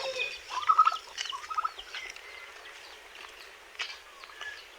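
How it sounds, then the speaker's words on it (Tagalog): A turkey in a backyard pen gobbles in short bursts among other faint bird calls, quiet and somewhat distant with no talk. "Ito yung pabo natin kanina ito."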